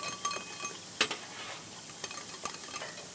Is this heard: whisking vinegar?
yes